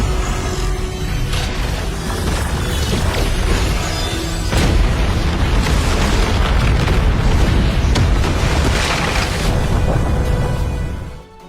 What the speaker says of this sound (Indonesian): Setelah efek ledakan dari pembentukan teknik baru mereda